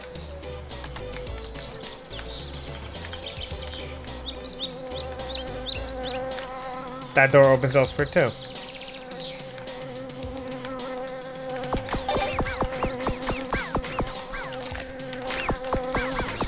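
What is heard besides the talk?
buzzing bees in a Jazz Jackrabbit Doom mod video game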